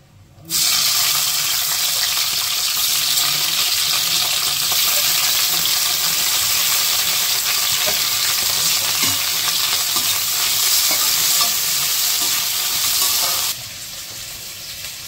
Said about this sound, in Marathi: तेल घालता कित्याक करेला फ्राय जावपाक जाय।